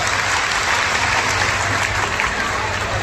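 Loud, steady applause from a large crowd at the Bageshwar Dham Divya Darbar religious gathering in Resham Bag, Nagpur, with continuous dense clapping and a low hum underneath throughout.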